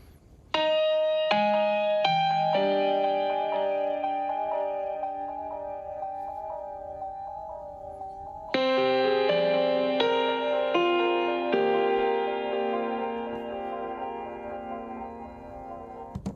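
Piano chords sent through a borrowed echo pedal, two struck chords ringing long with a mono, smeared repeating echo that builds shimmering artifacts as each decays, loud and close with no talk.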